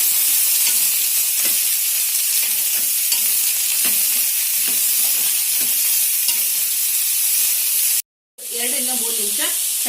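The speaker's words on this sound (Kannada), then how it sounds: "ಎಲ್ಲವನ್ನ ಚೆನ್ನಾಗಿ ಫ್ರೈ ಮಾಡ್ಕೊಳ್ಳೋಣ" Chopped vegetables frying in a pan for a vegetable curry or sambar give a steady, close sizzle with scraping stirs throughout; the sound drops out briefly near the end, then resumes with a lighter sizzle.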